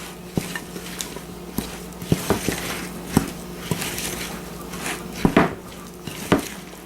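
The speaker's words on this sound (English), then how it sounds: "now you want to stir in your 3 cups, which is about 3 medium apples, peeled and chopped up coarsely" Chopped apples being stirred into thick cake batter: a spoon knocks and scrapes against the bowl in irregular close taps over soft wet mixing, with no talking.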